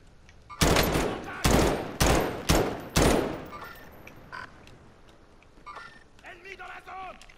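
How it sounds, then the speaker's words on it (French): Five loud, separate bursts of gunfire ring out in Call of Duty Warzone, spaced about half a second apart, then fade to quieter background game sounds. "Putain, ça tire."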